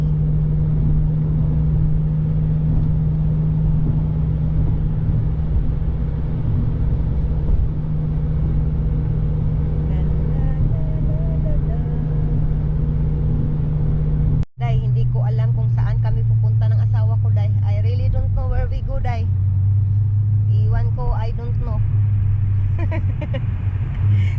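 Steady, low engine and road drone from inside a car cruising on a highway, with a brief cut partway through and people talking over the hum in the later part.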